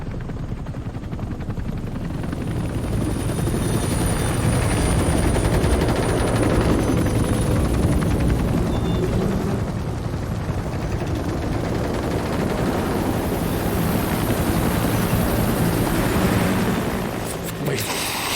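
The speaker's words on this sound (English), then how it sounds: "Wait, that's a lot of helicopters." Several helicopters in Metal Gear Solid V roar steadily with dense rotor noise, mixed with bursts resembling gunfire, loud and continuous across the whole stretch with no talk.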